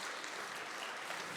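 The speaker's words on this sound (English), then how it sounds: "Please give him a round of applause." Sustained audience applause at a Nigerian diaspora investment summit, dense steady clapping from a large crowd with no voices over it.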